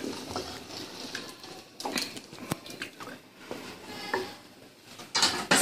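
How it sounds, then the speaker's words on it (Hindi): Palak gosht, spinach and meat cooked in ghee, being stirred and fried in a pot, with scattered clinks of a spoon against metal over a soft sizzle and no voices. "अब हम इसको अच्छे से भून लेंगे।"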